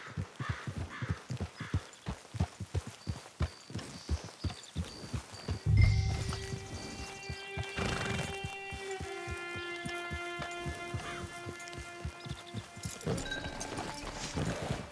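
Horse hooves clip-clop at a steady walking rhythm in the Red Dead Online video game. Later a sustained music-like tone enters and plays over the hoofbeats.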